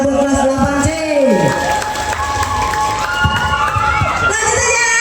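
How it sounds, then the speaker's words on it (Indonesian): A school farewell crowd gives a lively round of applause for class 8C after their dance, with cheering and children's shouts mixed in and tonal music and voices running underneath. "Tepuk tangannya buat kelas 8C."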